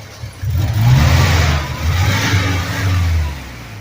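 A 1991 Chevy S10 engine, freshly fitted after intake manifold work, runs close by, revving up and settling in steady rises and dips with no talk over it.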